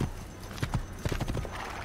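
Horse hooves clip-clop in the video game Assassin's Creed, a run of close, moderately loud hoofbeats in uneven rhythm over a low game ambience.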